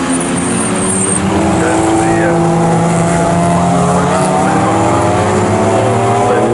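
Race cars, including a green Porsche and a BMW, racing at Snetterton in a club roadsports race, several engines droning loudly and continuously with shifting pitches as they run close together.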